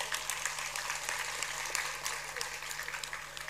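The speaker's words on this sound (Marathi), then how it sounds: "एकदा जोरदार टाळ्या झाल्या पाहिजेत." An audience applauds at a state-level Labour Day workers' honour ceremony, a dense, steady wash of many hands clapping that carries evenly from start to finish over a faint low hum.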